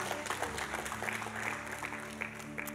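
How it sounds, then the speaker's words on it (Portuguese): A church congregation at a family worship service applauds steadily in a full, continuous patter of clapping, with sustained musical tones ringing underneath the whole time. "Pode aplaudir, é isso mesmo."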